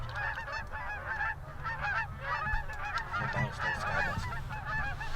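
A flock of geese honks continuously during a late-season goose hunt, many overlapping calls at moderate distance forming a steady chorus over low wind rumble.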